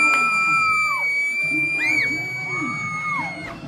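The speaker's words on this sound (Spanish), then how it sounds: "¿Quién grita tan agudo?" A high-pitched shout rises above the roaring crowd at a lucha libre wrestling show in an arena, several shrill sliding cries standing out over steady crowd noise and loud announcer talk.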